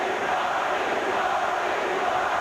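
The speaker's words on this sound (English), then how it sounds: "Crowd chanting Marley's name." A basketball arena crowd at a 1990 Western Conference Finals Game 6 between the Portland Trail Blazers and Phoenix Suns roars and chants a player's name, a dense, sustained wash of voices filling the space.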